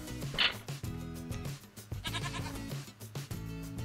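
Sheep in the Minecraft video game bleat a few times amid layered game music and ambient sound, with the calls fairly faint and partly blended into the backdrop.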